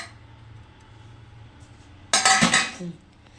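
Washed dishes and pots handled in a home kitchen, a brief loud burst of clattering metal and clinking crockery after a quiet stretch, then a couple of softer knocks.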